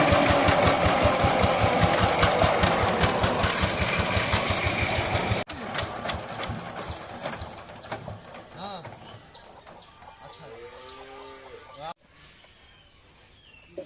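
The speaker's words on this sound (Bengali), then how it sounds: "আমাদের রাখি কিন্তু আবারও ধান নিয়ে চলে এসেছে এই পাওয়ার টিলার গাড়িতে" A power tiller cart hauling paddy runs loud and close with a steady rhythmic engine chug for the first five seconds, then cuts away to a quieter outdoor scene with birds chirping and faint background sounds.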